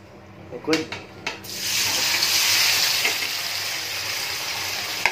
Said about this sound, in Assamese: ফাইনেলি তেলটো গৰম কৰি ল'লোঁ এতিয়া ঢালি দিম পনীৰ